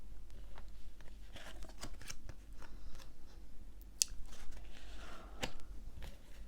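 Tarot cards handled and laid out on a table, a run of crisp slaps, flicks and papery shuffling in irregular bursts, close and fairly quiet.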